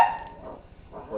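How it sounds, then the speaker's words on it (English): A pet dog barks in short bursts at moderate distance, a few quick yaps at the start and again near the end, with a quiet indoor background and no talking. "My dog's barking"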